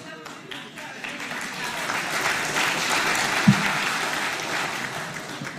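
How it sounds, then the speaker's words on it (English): A political conference audience applauds steadily for several seconds, a dense wash of many hands clapping at moderate volume, with faint voices mixed underneath. "those who voted for the lion are clapping"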